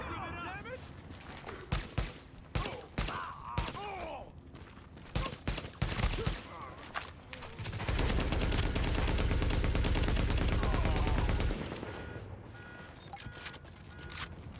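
Light machine gun fire in The Division video game: scattered sharp shots, then a loud, sustained automatic burst lasting several seconds before it cuts off.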